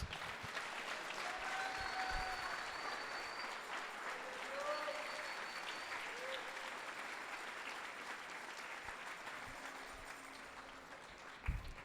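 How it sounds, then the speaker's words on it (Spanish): A church congregation claps steadily in sustained applause for about twelve seconds, soft and distant with a few faint voices mixed in. "denle una ofrenda de palmas a Jesús"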